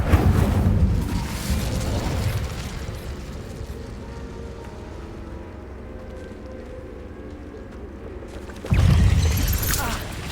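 A fire spell, Incendio, cast in Hogwarts Legacy, erupting in a loud burst of whooshing flame, fading into a lower crackling rumble, then a second forceful blast near the end.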